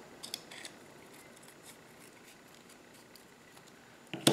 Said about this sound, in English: I come in like this and I trim off the extra Tyvek.